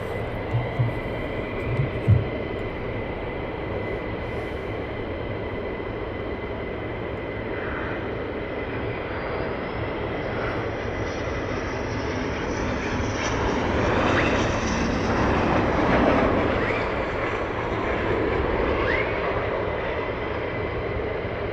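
A military jet aircraft arrives at RAF Lakenheath during surge operations, its engine roar building steadily from a distant rumble to a louder, broader swell and then holding, with no voices.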